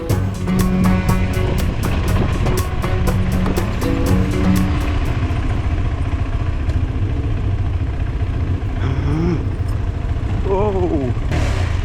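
Several motorcycles in off-road mode ride a dirt path near the Dead Sea in Jordan, their engines droning loud and continuous throughout with some rising revs and wind noise near the end.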